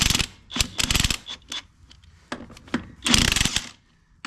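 Wheel lug nuts on a 1959 Willys Jeep being loosened with a ratcheting tool, delivering bursts of fast clicking and rattling in irregular spurts with short gaps, close up and alone.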